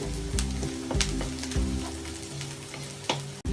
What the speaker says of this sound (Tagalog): So ipa-fry lang po natin ang ating bawang.